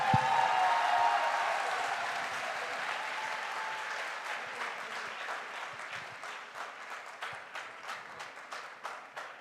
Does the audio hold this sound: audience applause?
yes